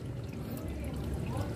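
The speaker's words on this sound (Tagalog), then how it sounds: "tulo lang galing sa filter system natin" Water from an aquarium filter system trickles steadily into a goldfish tub, a continuous close splashing patter with no pauses and no talk.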